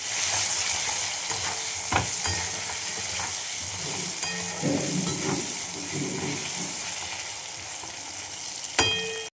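Potato pieces sizzle and fry with turmeric in a pan, a steady close hiss broken by occasional scraping stirs and a sharp clink near the end, with no voices.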